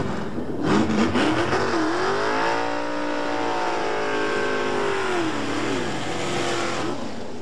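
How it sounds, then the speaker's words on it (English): A 1970s New Zealand drag racing car revs hard during a pre-race burnout, its engine note climbing and holding in a sustained, loud, smooth rise before sliding back down, with no talk over it. "To the driver, the revving and smoke mean heated tyres, which give him greater traction for the quarter-mile blast."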